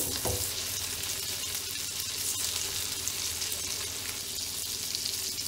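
Salmon fries in garlic butter in a pan, giving a steady, close sizzle and crackle with a few soft stirring sounds and no voices.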